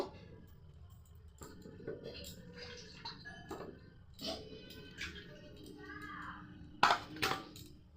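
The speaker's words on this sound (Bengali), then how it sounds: "আদাটাও কিন্তু আমার কাটা হয়ে গিয়েছে। এবার ধুয়ে তুলে নেব।" Chopped ginger gets rinsed in a bowl of water in a home kitchen, soft splashes and drips mixed with clinks of a utensil against the bowl, close and fairly quiet.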